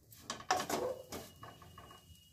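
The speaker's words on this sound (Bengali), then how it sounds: "নেড়ে নিচ্ছি, পুর বানিয়ে নেব।" A utensil scrapes and knocks in a pan while chicken momo filling with onion, ginger, garlic paste, tomato and coriander is stirred: a few quiet, irregular clatters and scrapes.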